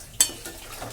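Onions, mustard seeds and cumin frying in oil for an egg curry are stirred, with one sharp scrape of a utensil against the pan near the start, then a quiet, steady sizzle.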